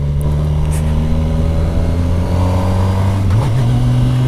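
Kawasaki Versys 1000 SE GT motorcycle engine shifting down without the clutch, a steady close mid-pitched drone that drops and lurches in pitch near the end as the gear changes.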